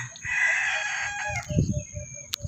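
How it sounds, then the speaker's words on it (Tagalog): A rooster named Kimpang crows once, loud and close, with a drawn-out strained call that tails off into short low clucks and rustling. "Panay tilaok dyan"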